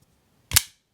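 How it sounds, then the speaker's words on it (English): A single sharp, crisp clack of a Shirogorov Custom Division Neon NL pocketknife blade snapping open, close and solid with a short ringing tail, alone against a quiet background. "when you deploy this knife, that's gonna be what you're gonna hear"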